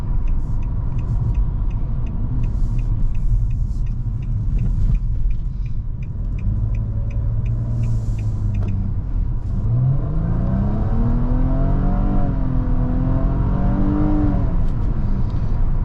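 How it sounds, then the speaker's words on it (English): A 2022 Nissan Maxima Platinum in sport mode accelerating onto a highway, a loud steady cabin rumble with engine tones rising and falling through gear changes, heard from inside the car without talking. "We're gonna go ahead and take this 2022 Maxima Platinum on the highway and see how it does."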